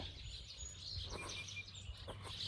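Scattered bird chirps, soft and somewhat distant, with a few brief clicks, over a low steady hum.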